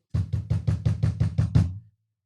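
Nine firm knocks on a door in a steady, even rhythm, close and loud, with no talking.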